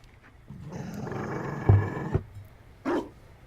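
A Mabari war dog in Dragon Age: Inquisition gives a low rumbling growl that swells for about a second and a half, then a short sharp bark, close and clear against a quiet background.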